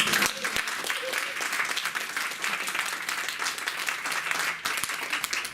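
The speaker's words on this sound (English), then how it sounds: "she actually deserves a round of applause" A room of university staff applauds their organiser, Marina: dense, continuous clapping from many people at fairly close range, lasting the whole stretch with a few louder individual claps and a faint voice underneath.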